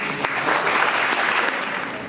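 An audience greets visiting brothers from the Holy Land with dense, loud applause, steady clapping filling the room from start to finish with a sharp clap near the beginning.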